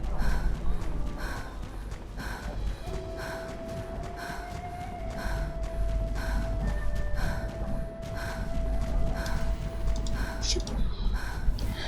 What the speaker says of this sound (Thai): เสียงลมหายใจเข้าหูมากเลย